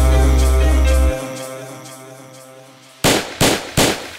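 Three sharp, loud gunshot bursts in quick succession cut through a Brazilian funk track after its heavy bass drops out, used as a shootout effect in a favela-themed song.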